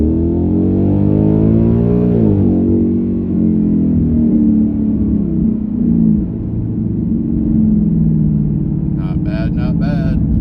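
A 2019 Ford Mustang GT fitted with a Steedas stop-the-hop kit launches from a 25 km/h roll, its V8 rumble swelling loudly and rising in pitch as it pulls hard, with a brief rattle near the end.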